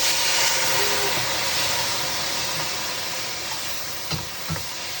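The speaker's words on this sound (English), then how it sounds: "we add the wine" Wine splashed into a hot pan of squid and kritharaki pasta sets off a loud, steady sizzle and hiss that fills the clip, with a couple of brief clatters near the end.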